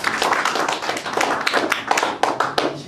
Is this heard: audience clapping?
yes